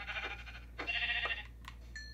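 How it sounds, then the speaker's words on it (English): Sheep in Minecraft bleat in a few short, wavering calls separated by brief pauses, with a faint low hum running underneath and no talking. "I got a sheep over here, I might as well go and try to kill."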